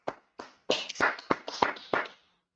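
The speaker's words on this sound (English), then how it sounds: "let's clap that up" An audience at a Bible class clapping, a few scattered hand claps that build into a short irregular round of applause, close and fairly quiet against silence.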